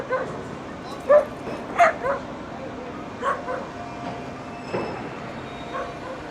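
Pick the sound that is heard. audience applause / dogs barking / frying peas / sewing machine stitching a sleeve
dogs barking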